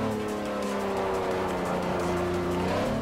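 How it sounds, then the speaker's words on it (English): A Honda NSX Type R, a mid-engine sports car, drives in the racing game Forza Motosport 4. Its engine drones loud and steady throughout with a shifting pitch, and faint tire noise sits under it. "And I love driving this NSX, though."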